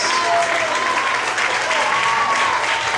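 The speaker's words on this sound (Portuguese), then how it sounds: "aplauda ao Senhor" A church congregation applauds during a worship service, a dense, steady wash of many hands clapping with no break, loud and full, with a faint voice barely audible beneath it.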